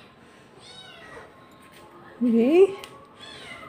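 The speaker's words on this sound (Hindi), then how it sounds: "नेक्स्ट डे म्याऊं म्याऊं शुरू है।" A domestic cat gives one clear, rising-and-falling meow partway through, close by and louder than the quiet background, with someone speaking briefly nearby.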